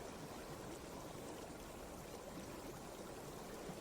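A river running past fallen rocks beneath cliffs makes a faint, steady rushing murmur, even and continuous, with no voices.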